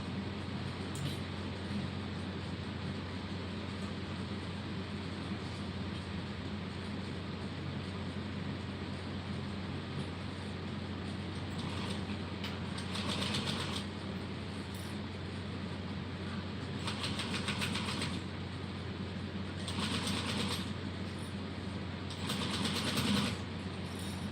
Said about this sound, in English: Now I'm going to stitch this at that 3/8 of an inch seam allowance.